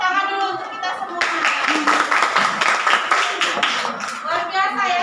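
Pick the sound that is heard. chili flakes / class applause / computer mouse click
class applause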